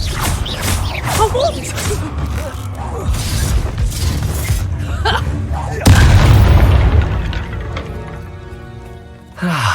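In Hogwarts Legacy, a Confringo explosion spell lands as a heavy boom about midway, surrounded by magical whooshes, creaks and mechanical clatter, loud and close, with a voice present.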